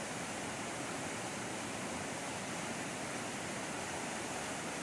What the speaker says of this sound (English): the trail meanders down this big creek the whole way